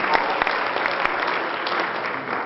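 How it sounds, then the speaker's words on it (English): A crowd at a peace initiative gathering claps loudly and steadily in a dense round of applause, with a few sharper individual claps standing out near the start. "great round of applause"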